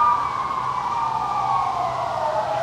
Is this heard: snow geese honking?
no